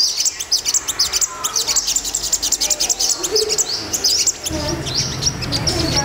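Sunbirds in an aviary give rapid high chirps and tweets, dense and close, with a low rumble of background noise joining near the end.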